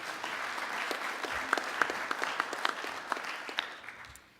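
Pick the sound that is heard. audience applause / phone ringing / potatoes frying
audience applause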